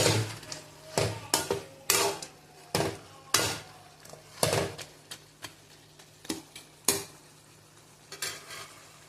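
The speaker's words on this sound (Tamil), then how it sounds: "கரம் மசாலா சேர்த்து சால்ட்டு கரம் மசாலா சேர்த்து கிண்டி விட்டுக்கலாம்." Chicken gravy with garam masala and salt stirred in a pan, heard as a series of irregular scraping and knocking strokes of a spoon against the pan over a faint sizzle, with no voices.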